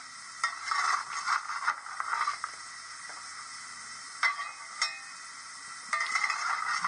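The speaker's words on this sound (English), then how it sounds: "We have coal shoveling." Coal shoveling sound effect from a DCC sound-fitted Dapol Hawthorn Leslie model locomotive: bursts of gritty scraping and rattling, several scoops with short pauses between them, close and fairly quiet over a faint steady hiss.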